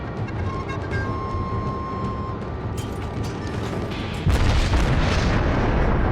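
Heavy naval gun salvos and shell hits in World of Warships, a continuous rumbling battle roar with booming impacts, and a louder, denser surge of explosions near the end, with no voices.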